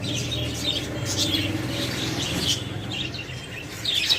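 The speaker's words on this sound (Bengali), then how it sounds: "আজকে চলে আসছি একটা পাখির দোকানে আপনাদের কিছু পাখি দেখাবো" Small birds in a bird shop chirp and tweet in quick scattered bursts over a low background hum, several calls overlapping at moderate distance.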